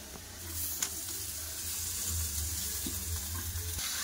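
Chopped greens land among half-fried potatoes in a pan, setting off a steady, fairly quiet hiss of sizzling moisture with a low background hum and a few faint clinks, without speech.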